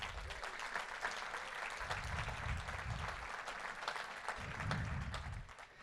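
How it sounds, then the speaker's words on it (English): Steady applause from an audience at a talk, fairly faint and distant, with a low rumble now and then beneath the clapping. "give a round of applause for Toronto"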